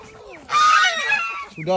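Loud, harsh squawking and honking from a duck and chicken in a noisy scuffle, with a goose nearby and a voice calling out.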